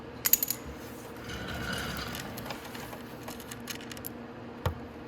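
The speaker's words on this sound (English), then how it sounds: "So now we just have to take all those nuts off." Metal nuts come off motorcycle ignition parts on a Venom 50cc X18 scooter: a few quick metallic clinks up front, then soft ratcheting and scraping, and a sharp clink near the end.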